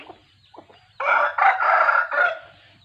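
A rooster of a prized Thai fighting-cock line crows once nearby, a loud multi-part call lasting over a second, following a few faint clucks in a quiet outdoor setting.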